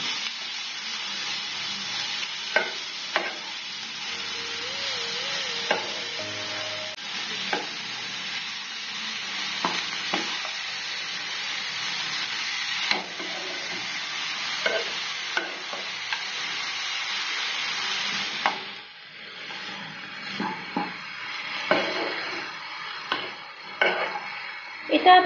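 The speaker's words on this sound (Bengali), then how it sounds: "আবারও ভালোভাবে নেড়ে নেব" Raw papaya chutney with salt is stirred in a hot pan, with a steady close sizzle, repeated spoon scrapes and clinks against the metal, and a few faint sounds that may be speech.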